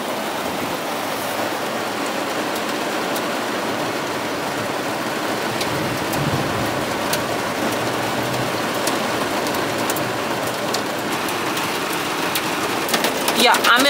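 Hail drumming steadily on a van parked in a driveway, a dense continuous patter with sharper clicks toward the end.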